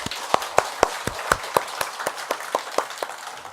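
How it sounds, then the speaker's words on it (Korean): About fourteen slow, rhythmic claps in unison from an audience at a Buddhist temple service, evenly spaced and fairly close, with a faint murmur underneath. "박수 한번 쳐주세요"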